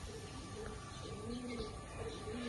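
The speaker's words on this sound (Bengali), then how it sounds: "ডিপ চোখের ম্যাড্রাস নর পায়রা।" Madras pigeons, a deep-eyed male among them, coo softly and repeatedly at close range in low rolling calls over a faint background hum, with an occasional light chirp.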